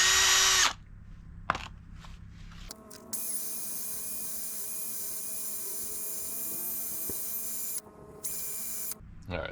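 A power drill or air tool whirs in sharp bursts at close range while cleaning road grime from bolt threads on a 2006 Volvo XC70 during a hub bearing job, with quiet pauses between runs and one sustained spin.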